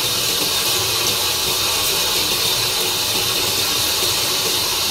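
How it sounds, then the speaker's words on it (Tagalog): Running water from a kitchen tap pours steadily over vegetables and parsley being washed, a continuous broadband hiss close by with no pauses or voices. "hugasan muna natin ang mga gulay"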